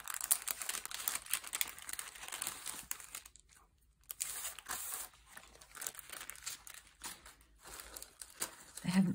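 Sticker sheets crinkle and rustle as they are handled close by, a fairly continuous crackling with brief pauses, with talking heard over it.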